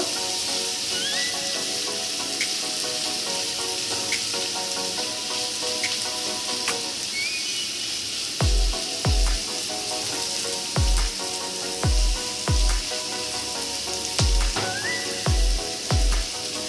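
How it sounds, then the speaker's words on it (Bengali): Onions frying until reddish in a pan, a constant loud sizzle with a run of rhythmic low thumps and scrapes from stirring in the second half. "এবার পেঁয়াজটা সম্পূর্ণ একটু লাল লাল করে একটু ভেজে নেব।"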